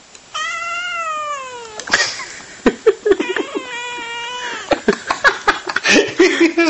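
A cat meows repeatedly in long, wavering cries, close and loud, with short bumps and soft noises between the calls.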